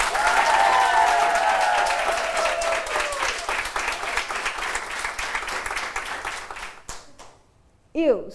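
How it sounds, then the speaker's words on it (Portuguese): An audience in Macau claps for the competing school teams at a Portuguese-language quiz semifinal, a dense burst of applause that thins out over several seconds before a voice speaks near the end. "Uma salva de palmas para todos eles."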